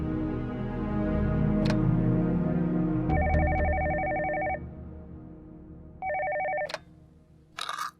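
Telephone bell ringing in an indoor scene, with two loud trilling bursts of ringing separated by a pause over a low background hum and a click near the end.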